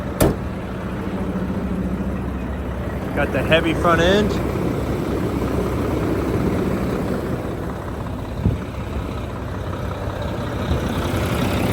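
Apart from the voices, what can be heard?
2007 Mack CTP713B dump truck engine idling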